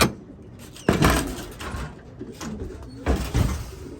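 Soft cooing from a racing pigeon close by after a race, with flapping bursts and a sliding rattle, like wings and a trap door, in an otherwise quiet setting.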